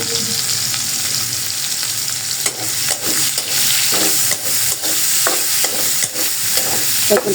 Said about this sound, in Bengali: এখন কড়াইতে দিয়ে দিব পেঁয়াজ আর এলাচ দারচিনি তেজপাতা আর কি গরম মশলা